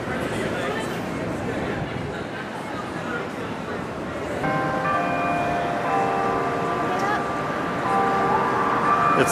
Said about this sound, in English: The clock is chiming midnight.